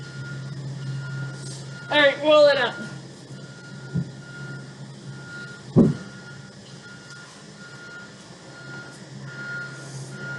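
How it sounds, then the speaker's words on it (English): A high electronic beeping sounds in two short bursts, followed by a sharp thud, over a steady low hum, with a brief spoken phrase. "I'm so sorry about the beeping."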